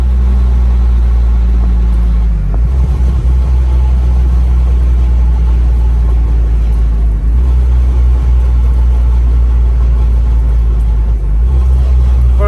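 A Mazda MX-5 fitted with a dual-clutch transmission and a standalone gearbox control unit drives in town and slows down, with a loud, steady low engine drone inside the cabin and brief dips as the gears change automatically.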